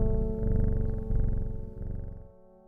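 A cat in the video game Strange Horticulture purrs in a steady, close, rumbling rhythm that fades out near the end.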